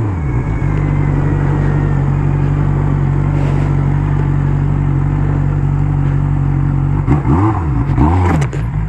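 A Honda Hornet motorcycle engine runs loud and close with a steady deep idle rumble, then revs up in a couple of short blips toward the end, with no talking.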